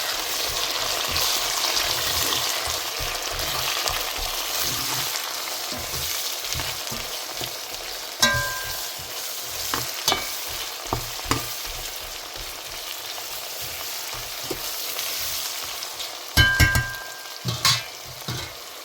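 Onions sautéing in a pan for a Sri Lankan Tamil vegetable curry, a steady close sizzle with repeated scraping stirs and a few sharper clinks of a spoon against the pan, no voices.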